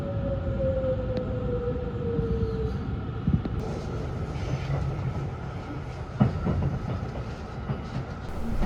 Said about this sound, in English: Now the train arrives at Maibara Station.